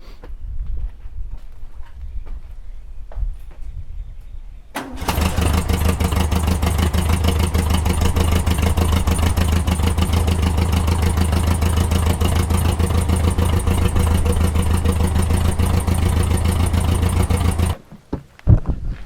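A homemade trike's small engine, fitted with a muffler, idles quietly at first, then starts running loud and steady with a rapid, even clatter for about thirteen seconds before cutting off.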